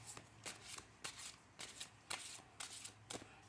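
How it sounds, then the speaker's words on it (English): Tarot cards are shuffled in a steady series of quick, papery riffles, about seven soft bursts in a row, close and quiet. "let's shuffle these cards"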